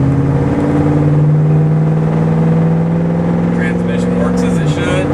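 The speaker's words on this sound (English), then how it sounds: "We're going to take the 72 Torino out for a drive." A 1972 Ford Gran Torino Sport fastback out on a drive, its engine holding a steady, loud droning hum at cruising speed, with road noise and a slight drop in pitch near the end.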